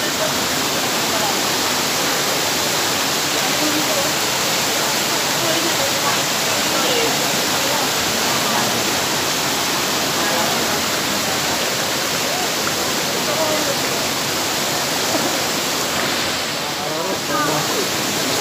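Daranak Falls pours in a loud, continuous broadband rush of falling water, steady and close throughout, with voices faintly audible beneath the roar.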